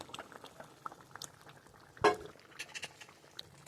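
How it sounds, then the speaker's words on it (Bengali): Tarka curry with kasuri methi, tarka masala and chopped coriander bubbles quietly in a pan, giving soft, irregular pops and faint simmering patter with one louder burst. "তারপর কিছুক্ষণ ফুটিয়ে নেব।"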